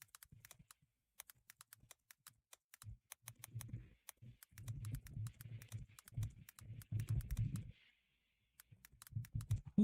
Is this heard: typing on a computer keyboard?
yes